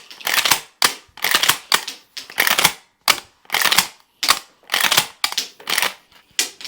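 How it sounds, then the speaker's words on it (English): Dummy shotgun shells cycling through a gun's action, a rapid series of sharp mechanical clacks and rattles repeating about ten times in a steady rhythm, close and loud with no talking. "now let's see if they actually go cycle in the gun"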